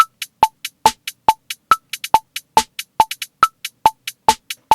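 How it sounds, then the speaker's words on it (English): Programmed trap hi-hats in BandLab, a fast run of sharp, bright ticks with triplet rolls mixed in, loud and dry with clean gaps of silence between hits. "that's going to give us that hi-hat triplet feel"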